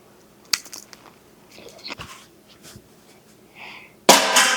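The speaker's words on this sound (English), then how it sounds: "And it's time for a bite." Someone bites into a hot, crunchy sloppy joe egg roll: a sharp crunch, then scattered crackles and chewing noises, then a loud, dense burst of crunching near the end, heard up close with no talk.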